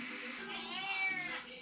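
A house cat gives one drawn-out meow that rises and falls, close by and fairly loud in an indoor kitchen.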